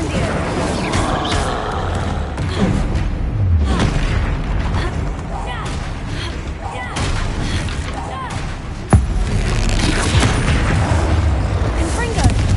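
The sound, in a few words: Incendio fire spell, Hogwarts video game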